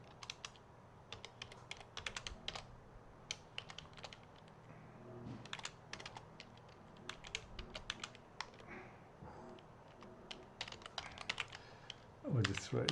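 Someone types newsletter text on a computer keyboard. Quick, close key clicks come in irregular bursts and clusters, with short pauses between them.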